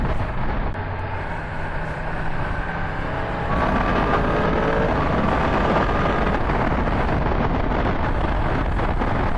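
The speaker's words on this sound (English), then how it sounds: "it's going to be a windy one, isn't it, eh?" Strong wind buffets the microphone in a steady, heavy roar, with a faint tonal whine drifting in partway through, on a ride to Wigan Yamaha on a 2023 Yamaha MT-10 motorcycle.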